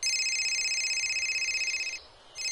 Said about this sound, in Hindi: मेरे बेटे का फोन आ रहा है।